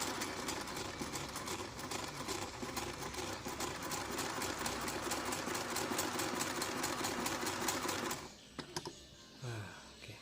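A Singer 984 sewing machine stitches slowly, its needle running in a steady rapid patter for about eight seconds before stopping, followed by a few faint handling sounds.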